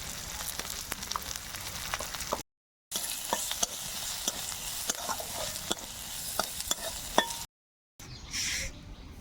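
Whole garlic cloves fried with a little turmeric and salt in a pan, steady crackling sizzle with frequent spatula scrapes and taps, interrupted by two brief silences, a softer hiss returning at the end.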